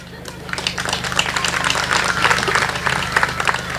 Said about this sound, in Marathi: आता टाळ्या वाजवल्या पण